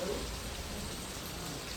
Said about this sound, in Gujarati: અત્યારે શરૂ થઈ ગયો છે વરસાદ